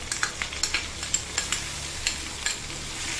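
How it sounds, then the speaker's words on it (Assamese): Onion and chicken masala mix frying in a pan, stirred with a spoon: a regular run of sharp scraping clinks over a continuous sizzle, close and fairly loud, with no talking. "ভালদৰে লৰাই ল'ম।"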